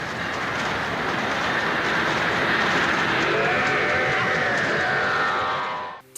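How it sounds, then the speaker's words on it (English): A train speeds along railway tracks toward a man whose foot is stuck, in a Doctor Who scene; a loud continuous rumbling roar with a rising horn-like tone swells and then fades out. "the train is speeding up towards him"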